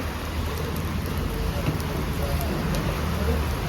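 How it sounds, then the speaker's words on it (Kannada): Heavy rain pouring down during a roadside stop in Maddur, a dense, steady hiss of drops hitting surfaces all around, continuous and fairly loud throughout. "ಇಷ್ಟು ಮಳೆ"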